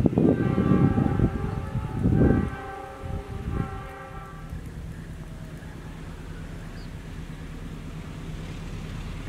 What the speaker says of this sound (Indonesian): Argo Wilis melintas langsung stasiun Kebumen.